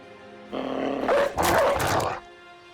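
Dogs in the video game Battle Brothers bark and growl in two short, loud bursts over a low game hum.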